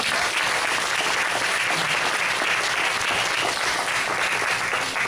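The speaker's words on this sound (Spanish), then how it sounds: "un aplauso fuerte al Señor" A church congregation applauds loudly and steadily during a praise and preaching service, a continuous dense wash of clapping throughout.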